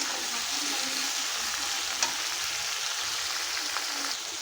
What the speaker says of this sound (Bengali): নুন দিয়ে আমি ভালো করে নেড়ে নেব।